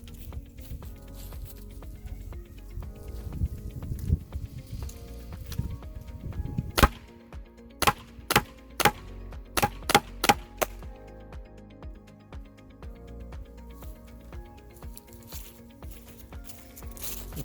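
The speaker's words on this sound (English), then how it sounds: "we're gonna shoot into the drywall from about maybe 15 foot back" Jawbreaker rounds from a Mission TPR pepperball pistol strike drywall from about 15 feet back, giving about seven sharp, separate impacts spaced roughly half a second apart over steady low background noise.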